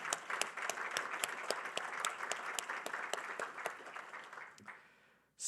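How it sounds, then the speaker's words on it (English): Audience applause at a passenger rail summit session, steady clapping from a sizable crowd with sharp individual claps, sustained for about five seconds before trailing off and cutting out. "Let's give them a round of applause."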